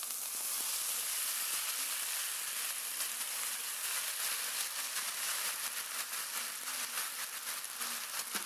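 Boiled chow mein noodles hit a pan with onions fried until reddish, and a bright, steady sizzle carries throughout, close and even with no talking.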